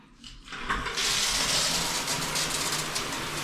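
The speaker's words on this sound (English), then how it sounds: "It's the shower head." A hotel bathroom shower head turns on and sprays steadily, a dense hiss of running water that rises within the first half second and stays loud and close.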